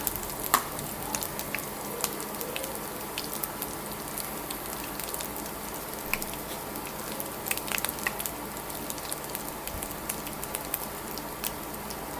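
Cumin seeds crackle and sizzle in hot oil for a dal tempering, a steady fizzing with scattered pops and spits, fairly quiet and without speech.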